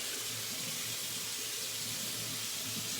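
A bathroom tap runs steadily while someone rinses their face after a straight-razor shave, giving a smooth, unbroken hiss of flowing water at modest volume with no voices.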